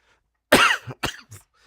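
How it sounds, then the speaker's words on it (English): A single harsh cough followed by two shorter coughs in quick succession, close and loud, then quiet. "sorry, also apologies for the cough."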